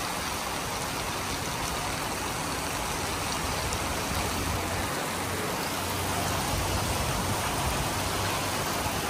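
Steady rain falls during a sunny spell in an outdoor setting, giving a dense, even hiss with a faint low rumble underneath and no voices.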